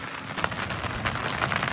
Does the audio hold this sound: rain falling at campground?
yes